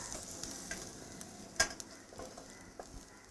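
Sambar onions sauté quietly in a pan, a faint continuous sizzle broken by a few sharp spatula clicks and scrapes, with a louder knock near the end; no talking.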